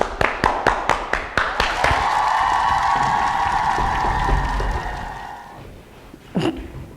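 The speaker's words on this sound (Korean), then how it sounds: "박수!" Applause during a hip-hop dance lesson: a quick run of about eight sharp claps up front, then a steady sustained tone carries on before fading, with a brief sound near the end.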